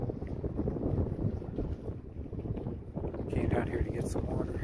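Strong wind at the Daisy Farm dock on Isle Royale buffets the microphone in heavy, uneven gusts that roar close and loud over the open lake, with no clear speech over it.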